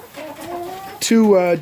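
Chickens clucking close by, a few drawn-out calls followed by a louder, higher squawking cluck, with no voices.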